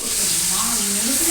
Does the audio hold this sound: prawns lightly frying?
yes